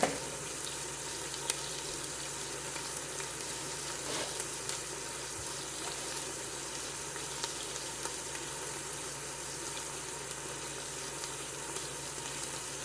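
Water is poured into browning ground meat inside a Ninja Foodi while making a shepherd's pie, a steady hissing sizzle and gushing wash that runs evenly throughout at moderate, close range with no talking.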